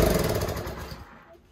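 A pressure washer's small engine cranks and briefly fires with a rough, loud mechanical chatter for about a second, then fades and dies off into quiet.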